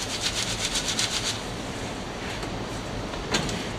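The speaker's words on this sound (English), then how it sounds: "Shake it back and forth and put a thin layer of sand on top of the pattern." A sieve of casting sand shaken back and forth over a pattern in a flask for screwdriver casting, giving a steady gritty rubbing hiss in quick rhythmic pulses, close and moderately loud, with no talking.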